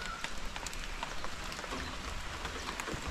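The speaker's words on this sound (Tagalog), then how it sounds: "Yan, sinabayan pa ng ulan" Rain falls steadily outdoors, a dense continuous patter of drops on surfaces with scattered sharper splashes, moderately loud and with no voices over it.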